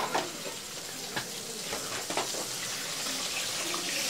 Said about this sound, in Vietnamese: Bên này thì em đang rán cá này cô bác.